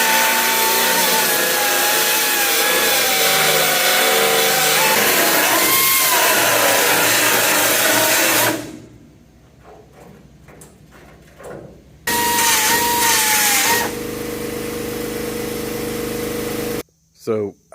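Power cutting tool grinds through the rusted metal roof of a 1977 Oldsmobile Cutlass, a loud sustained whine with wavering pitch for about eight seconds, then a quieter pause with scraping before the cutter bites again.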